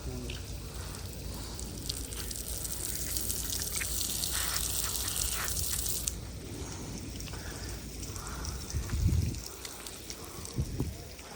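Water hosed onto newly built brick walls at a house construction site to cure them, a steady gushing spray heard at moderate distance, with a voice talking now and then.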